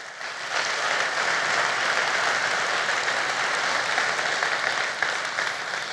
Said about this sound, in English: Let's give a round of applause for Nupur